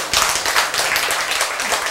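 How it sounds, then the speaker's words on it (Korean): Congregation clapping during a Korean church sermon, a dense burst of overlapping claps filling the room at steady loudness for the whole moment, no talk over it. "이때는 박수 쳐야 됩니다"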